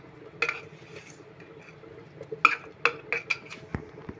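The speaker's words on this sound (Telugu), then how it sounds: "ఇవన్నీ వేసినాక మంచిగా మిక్స్ అయ్యేలా కలుపుకోవాలి" Masala and spices stirred in a pan for mutton curry: scattered metallic clinks and scrapes of a spoon against the pan, quiet and close, irregularly spaced.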